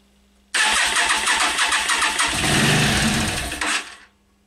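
A Yamaha Virago XV 500 cafe racer motorcycle engine, running on a temporary petrol tank with fresh spark plugs, cranks with rapid chugging beats, then catches and runs loud and close for a few seconds before cutting off abruptly.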